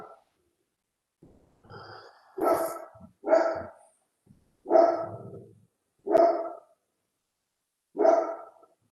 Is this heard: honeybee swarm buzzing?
no